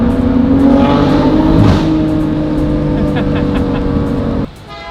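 A Ferrari 458 engine runs loud and steady with strong harmonic drone, held near the red line, then cuts off abruptly near the end, leaving quieter background.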